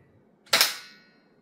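A single sharp report from an Umarex T4E TR50 defence revolver fired in the dark, loud and close, with a quick decay and no talking over it.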